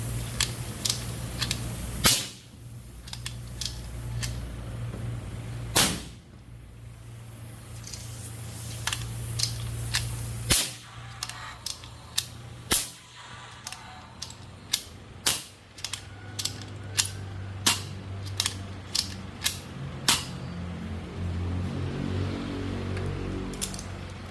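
An air gun with a worn o-ring is worked and fired, giving a series of sharp mechanical clicks and snaps, some isolated and some in quick runs, over a low steady hum with no speech.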